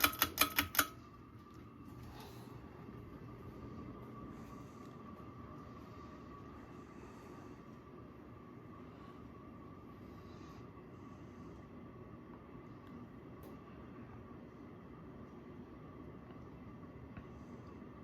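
Two Encon Premier Deluxe 42-inch ceiling fans running on high give a steady, low, even whoosh with a faint hum, starting after a few brief clicks and continuing unchanged throughout.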